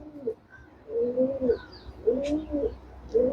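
Andhra pigeons coo in repeated soft, rolling calls close by, several phrases spaced about a second apart with faint chirps between, and no one speaking over them.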